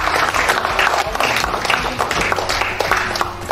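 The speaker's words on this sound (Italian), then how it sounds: "Un applauso" An audience at an award ceremony for the Emilio Lussu prize claps, a loud, busy stretch of overlapping hand claps with uneven peaks, heard close and continuing steadily without a voice over it.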